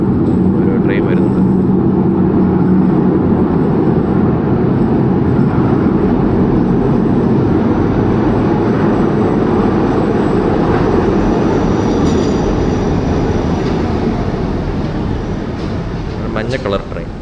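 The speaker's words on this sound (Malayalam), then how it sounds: "ഒരു ട്രെയിൻ വരുന്നുണ്ട്." A yellow train pulls into a station in Budapest, its steady low rumble and rolling noise filling the scene loudly and continuously before easing slightly toward the end, with a person talking over it.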